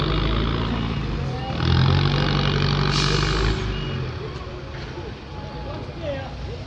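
At a cattle restocking fair in Capoeiras, Pernambuco, a truck backs up to the gate with a rumbling engine that swells and then fades, while people talk nearby.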